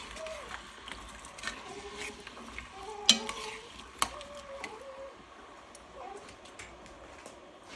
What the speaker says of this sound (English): I like to use the spatula to make sure we get all the drippings from the bottom